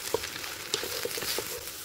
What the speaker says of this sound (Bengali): উল্টে পাল্টে আমি চাউলগুলো ভেজে নিব প্রায় পানিটা শুকানো পর্যন্ত